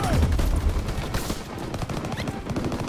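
Rapid automatic gunfire and bursts of shots in a Call of Duty battle, dense rattling volleys that keep going loud and close without a break, with battle noise layered underneath.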